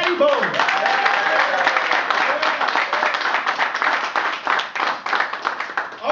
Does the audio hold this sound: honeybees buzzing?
no